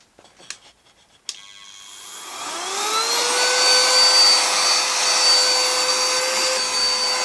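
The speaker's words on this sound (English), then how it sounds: "I used it to vacuum my apron." A few clicks, then a small handheld vacuum whirs to life, its motor whine rising in pitch and settling into a steady, loud hum.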